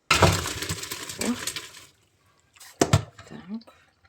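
Soaked milk mushrooms are tipped into a colander, giving a short splash and dripping of draining water with a later second pour, while someone talks over part of it.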